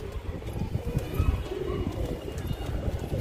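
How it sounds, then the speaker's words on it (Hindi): Pigeons coo softly and repeatedly close by, low throaty murmurs over a faint outdoor rumble. "बाकी के जो कबूतर हैं वो धीमे धीमे ऊपर जा रहे हैं"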